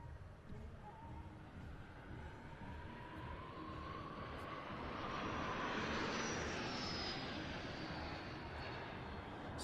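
At an airshow in Leszno, a propeller plane (an SK.60) flies a loop with a slow roll on top, its engine a steady distant drone that swells and shifts pitch as it arcs overhead.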